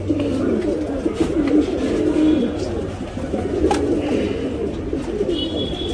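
A male Kulmai Regdar pigeon cooing close by in repeated low, throaty rolling calls, over a steady background murmur.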